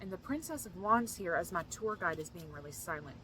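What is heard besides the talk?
None of the usual background noises is heard.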